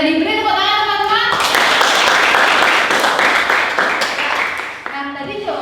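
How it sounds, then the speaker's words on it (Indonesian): Schoolchildren in a classroom clap for a classmate's answer, a lively burst of hand claps that follows a teacher's voice and fades as talking resumes. "Beri tepuk tangan teman-teman."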